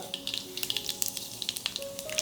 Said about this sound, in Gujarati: રાઈ જીરુંનો વઘાર લીધા બાદ